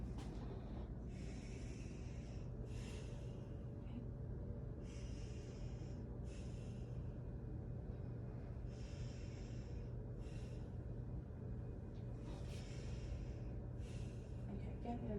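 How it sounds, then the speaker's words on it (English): A patient draws slow, deep breaths in and out during a lung check, each breath a soft airy rush in a steady repeating rhythm, close and quiet over a low background hum. "You just take deep breaths for me while I do it."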